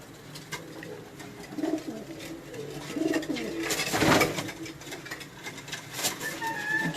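A trembling pigeon coos softly in low, repeated throaty bursts, close by, with a scuffling burst of flapping or handling noise midway and faint background sounds.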